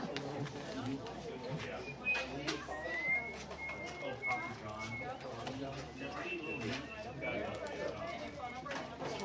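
Outdoors on a street, a person whistles an imitation of a white-crowned sparrow's call as a few thin, high notes, with other voices and background noise around.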